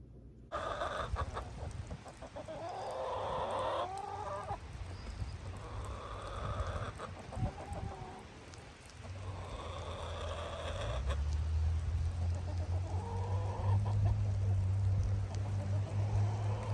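Backyard chickens cluck at close range in a series of short, throaty calls spread over a steady outdoor background, with some thumps and rustling in between.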